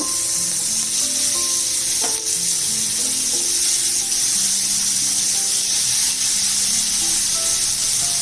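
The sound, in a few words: prawns frying in hot oil on a tawa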